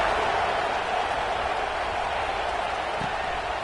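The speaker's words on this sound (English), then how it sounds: "this crowd is buzzing after that last score" Dense, steady murmur of a large stadium crowd at an American football game, buzzing continuously after a score, a broad wash of many voices with no single sound standing out.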